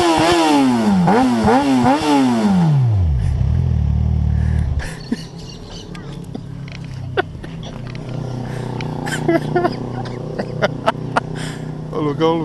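Motorcycle engine revving sharply in repeated rising blips during an exhaust test, loud and close, then dropping to a low idle; talking and clatter follow.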